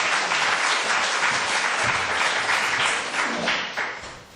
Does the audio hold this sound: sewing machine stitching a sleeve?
no